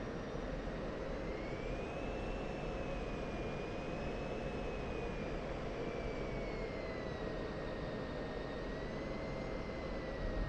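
F-16 Viper fighter jet flying during airshow practice, a continuous distant jet engine roar with a high whine that slowly rises and falls in pitch as the aircraft moves, fairly faint and steady.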